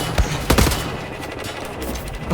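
Bursts of rapid gunfire from dual-wielded guns in the video game Wolfenstein: The New Order, with several sharp volleys clustered near the start and a continuous noisy combat background.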